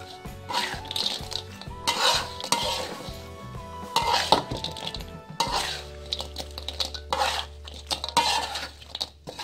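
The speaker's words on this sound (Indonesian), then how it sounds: "jengkol yang sudah kita tokok dan juga ikan tambannya. Kita aduk sampai merata." Jengkol pounded flat and small tamban fish stirred together in a pan for a fried green-chili dish, with steady metallic scraping and clinking of a utensil against the pan, close and fairly loud, and a low hum joining partway through.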